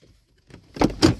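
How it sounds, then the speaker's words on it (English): A door shuts in the Rainbow Friends video game, heard as two quick, fairly soft thuds in close succession after a near-silent start, with no talk over them. "Shut the door!"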